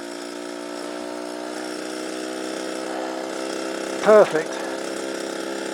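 A vintage motorized bicycle's small moped engine drones steadily at close range, a buzzing, even hum that barely changes pitch, with a short spoken word near the end.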